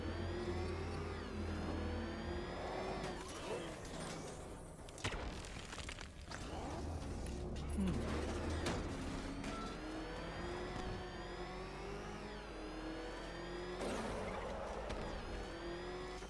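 Batmobile engine from Batman: Arkham Knight revving hard in a drift, a loud, continuous mid-pitched roar with rising and falling pitch sweeps, tire skid noise and game music around it.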